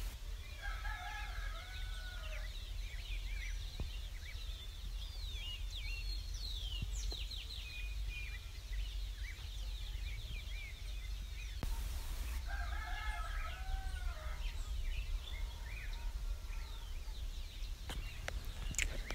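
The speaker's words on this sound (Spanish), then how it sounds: "Aquí los pájaros y el gallo del vecino cantan a cualquier hora." A neighbour's rooster crows faintly in the distance twice, while small birds chirp and sing in the background over a steady low hum. The whole scene is quiet and outdoors, with no talking.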